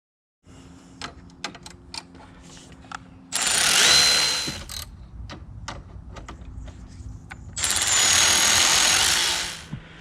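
A 10mm ratchet clicks in quick, irregular runs while tightening the crossbar bolts of a Touratech pannier rack on a Yamaha Ténéré 700. Two loud, sustained hissing bursts break in between the close, crisp clicks.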